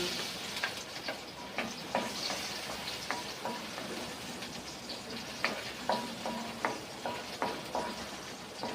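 Garlic browns in a frying pan with a soft continuous sizzle, broken by repeated clacks of a utensil stirring and scraping against the pan, close but fairly quiet, with no voices.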